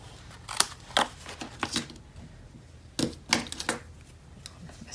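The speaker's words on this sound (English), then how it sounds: "just trimming my corners" Sharp, crisp snips of scissors trimming paper corners for a Graphic 45 Kaleidoscope large craft folio come up close in two quick clusters, each a few cuts in a row, with quiet pauses between.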